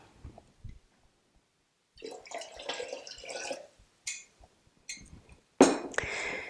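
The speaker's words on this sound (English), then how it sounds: "Add some more water in order to eliminate the sugar" Water added to a glass cup holding kefir grains and sugar water: several short splashing pours with brief pauses between them, plus small drips and clicks of glass nearby.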